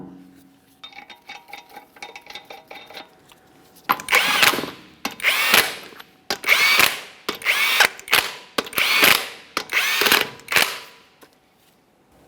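Power tool spinning 22mm lug nuts onto a GMC Acadia wheel, starting with a lighter ratcheting patter, then six loud, close bursts of whirring and hammering, each a second or so long with short gaps between.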